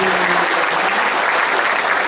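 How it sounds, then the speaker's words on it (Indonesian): An audience at a gathering of neighbourhood heads in Gandrungmangu, Cilacap, breaks into a dense, steady round of applause for Pak Taufik, a regent candidate. A voice is briefly heard under the clapping at the start. "Tepuk tangan buat Pak Taufik"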